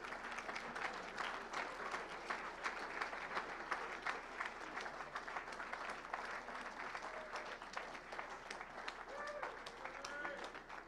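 Audience applause at a Theta Delta Chi fraternity event, steady sustained clapping from a sizable crowd lasting throughout, with a few scattered voices and calls rising above it.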